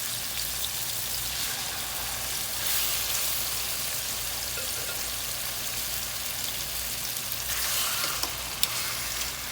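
Tilapia fish fries in a pot for a Haitian-style stew, giving a steady, close crackling sizzle like light rain that swells briefly a couple of times, with no voices over it.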